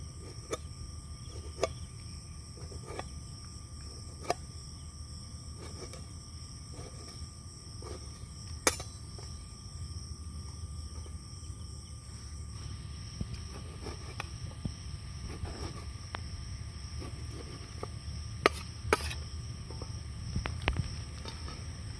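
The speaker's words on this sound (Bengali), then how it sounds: "আজকে অত্যাধিক পোকা।" Insects chirp steadily through a quiet night at a campsite, a faint, continuous high-pitched trilling with occasional soft clicks and taps nearby, and no talking.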